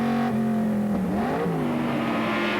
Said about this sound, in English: The Ford GT40 of David McElwain and Andrew Merrifield goes through.